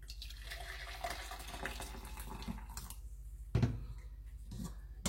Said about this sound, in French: Je verse cette eau et maintenant je mets l'eau de cuisson.